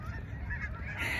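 Geese honking in a park on a mild sunny day, a steady overlapping chorus of nasal calls at moderate distance with no talk.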